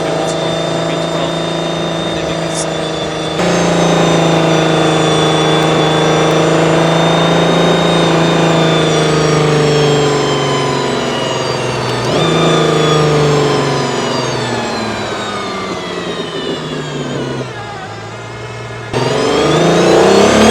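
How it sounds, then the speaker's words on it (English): An Aston Martin Valkyrie Spider's 1050-horsepower V12 sounds close and loud for the whole run. It holds a steady howling tone, then drops and climbs again as it comes off the throttle and gets back on, with open-top wind noise around it. "despite us having 1050 horsepower from the V12"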